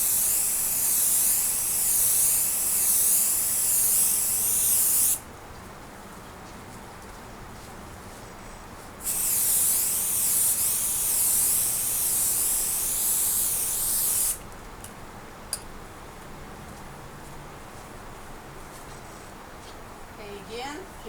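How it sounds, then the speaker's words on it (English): Two long bursts of aerosol spray hiss loudly, each lasting several seconds, separated by quieter background noise, with a brief third hiss later. "And then spray away."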